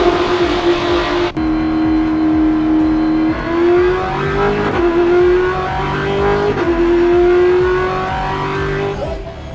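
Stock Car race cars at the start of a race in Goiânia, loud engines revving hard through climbing gear changes as the pack accelerates, with a sustained roar and cars passing close by.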